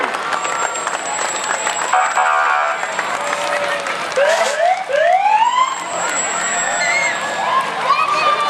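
New Boston utility truck number 2 sounds its siren in a Fourth of July parade in New Hampshire, rising whoops and wails close by over crowd noise and scattered applause.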